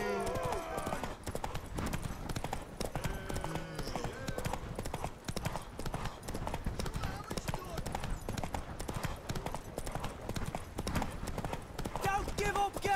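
Galloping horse hooves in The Witcher 3: Wild Hunt clatter in a rapid, steady rhythm throughout, with voices talking over the pounding gait.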